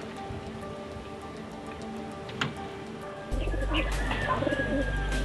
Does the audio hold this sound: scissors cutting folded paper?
no